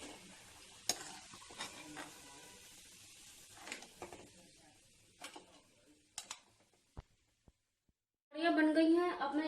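Pakoras fry in hot oil and are lifted out with a ladle: soft scrapes and clinks sound with pauses, then a loud burst of sizzling bubbles up near the end, while someone talks.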